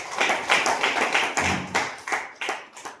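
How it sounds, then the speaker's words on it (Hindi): An audience clapping for someone called onto a stage, a brief round of uneven, fairly close claps in quick bursts lasting a few seconds, with no one talking over it. "एक जोरदार ताली।"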